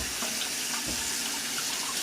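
Cold water runs from a kitchen sink tap while a lobster is rinsed, a steady, close hissing stream that continues without a break, with faint splashes and no talk.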